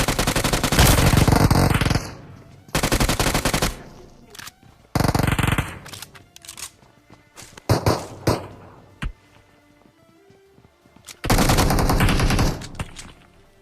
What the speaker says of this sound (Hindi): पीछे के साइड से एक बंदा फायर करता है।